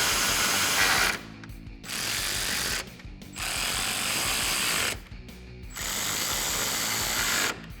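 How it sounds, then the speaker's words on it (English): A 10mm socket ratchet tightens a bolt on a front bumper of a 2013-2018 RAM 1500, rapid close clicking in four long strokes separated by short pauses. "Grab your 10mm socket and tighten it down."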